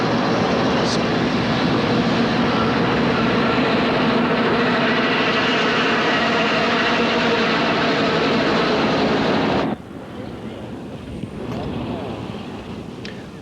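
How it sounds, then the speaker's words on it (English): Amtrak's new Superliner Starlight, with SD40 locomotives and Pullman cars, crosses a trestle where Gaviota Creek meets the Pacific, a loud, steady rumble and roar that drops off abruptly near the end to a softer background. "we see the new Superliner Starlight as she heads southward"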